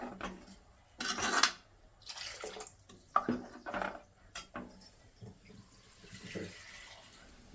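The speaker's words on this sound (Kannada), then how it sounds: "ನಾನೊಂದು 2ರಿಂದ 3 ಗ್ಲಾಸ್ ಹಾಕ್ತಾ ಇದ್ದೀನಿ ನೀರು." Water from a glass splashes and trickles into a mixer jar while a village-style chicken gravy is prepared, heard as several close, uneven pours with drips and light clinks and no talking.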